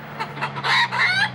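Hens clucking close by in a henhouse, a quick run of short, throaty clucks that swell louder toward the end.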